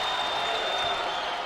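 Basketball arena crowd at a Duquesne vs St. Bonaventure college game late in the second half, a steady loud roar of voices and cheering that continues without a break.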